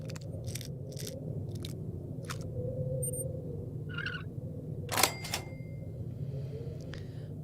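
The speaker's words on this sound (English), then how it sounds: "now I have a lockpicking skill of 100, so let's do it" Lockpicking a safe in Fallout 3 comes through as sparse metallic clicks and scrapes over a low steady hum, with a brief louder rattle near the end and no talk.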